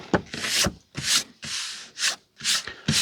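Vintage Penguin paperbacks being rubbed clean, with short bursts of dry scrubbing friction close up, separated by brief pauses.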